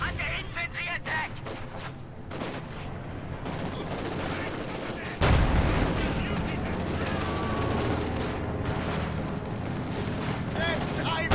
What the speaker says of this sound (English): As Barton's mortar just kind of plugs away.